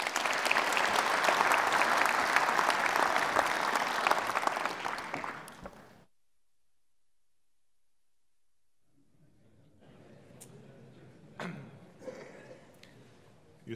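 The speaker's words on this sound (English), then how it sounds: "Give him a big round of applause." An audience at a lecture applauds loudly and steadily for several seconds before the clapping stops, leaving near silence that gives way to faint shuffling and scattered thumps.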